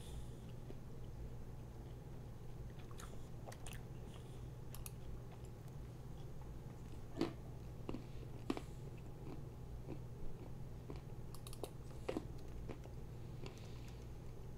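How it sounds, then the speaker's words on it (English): Someone chews food close to the microphone during a game development session, with scattered soft crunchy bites and mouth clicks over a steady low hum and no talking. "Sorry about if you hear the chewing, I'm sorry."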